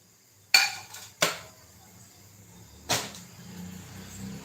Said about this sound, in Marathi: तडका पॅन घेतलेला आहे